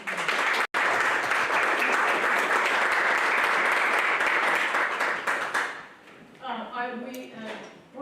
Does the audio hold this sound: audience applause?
yes